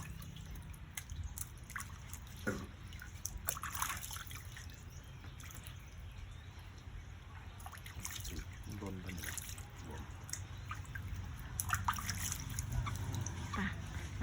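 Mangoes being washed in water, with soft dripping and trickling splashes throughout under a steady noisy background, as people talk nearby.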